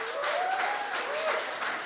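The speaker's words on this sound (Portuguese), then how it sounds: "os homens vão aplaudir ao Senhor mais uma vez." A church congregation applauds during a Sunday evening service, with brief, moderately quiet clapping that holds steady and a voice faintly over it.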